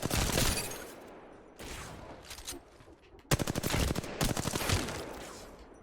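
Bursts of rapid weapon fire in Apex Legends at a target range, several separate volleys with short pauses between them, moderately loud and heard alone.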